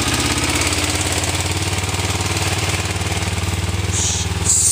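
A 2007 Kawasaki Ninja 250 motorcycle idles close by in snowy cold weather, its sensitive choke engaged, giving a steady, loud, even engine putter with no pause throughout.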